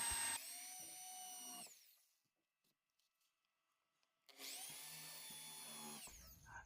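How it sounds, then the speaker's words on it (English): A power drill with a step drill bit whines loudly for about two seconds drilling a PVC cap, stops for a quiet gap with faint clicks, then spins up again for another steady burst. "Using a step drill bit, we can make suitable hole for fixing BNC connector."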